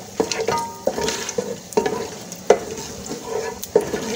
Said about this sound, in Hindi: इसका तला गर्म हो चुका है। अब इसमें डालूँगी मैं ये खड़ा गरम मसाला।